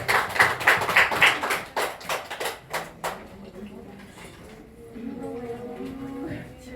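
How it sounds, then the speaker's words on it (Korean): A church congregation claps in praise during a worship service, with a burst of sharp, fairly close handclaps that thin out and stop after about three seconds before voices take over. "예배를 받는 하나님 영광을 박수 올리겠습니다"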